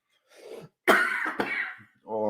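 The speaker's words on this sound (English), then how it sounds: "The coughing must sound even better." A person coughs and clears their throat in a few harsh, close bursts, followed by a short voiced sound at the end.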